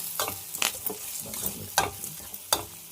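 Curry being stirred in a pan after chilli and curry leaf powder go in, with sharp scraping strokes at irregular intervals over a soft background sizzle, close and moderately loud.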